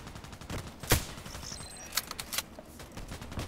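A single sharp sniper rifle shot cracks in a video game. It is followed by scattered clicks and faint mechanical rattles over a hissy background.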